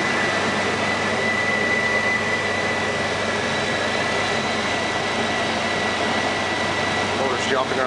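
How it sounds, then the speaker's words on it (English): A 2001 Chevy Blazer engine idles steadily after an intake manifold repair, a loud continuous broadband running drone that stays even throughout with no breaks. "Motor's jumping around a little bit, but don't seem to be too bad."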